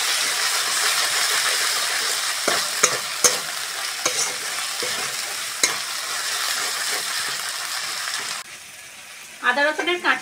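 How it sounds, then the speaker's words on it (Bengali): Ginger-garlic paste fries loudly in a pan of browned onions for tuna curry, a continuous close sizzle with occasional spoon knocks, fading quieter before a brief burst of bubbling. "এবার আদা রসুন বাটাটা দিয়ে দেবো।"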